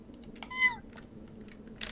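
A person imitating a cat with a single short, rising-and-falling meow, close and moderately loud, amid light keyboard tapping and quiet room tone.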